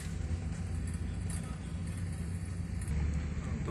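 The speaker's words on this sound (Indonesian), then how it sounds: "Ini udah macet ya teman-teman ya, karena banyaknya perbaikan jalan." Cars and trucks crawl in a traffic jam at road works in Palembang, a steady low engine rumble and idling drone close by, with a faint voice in the background.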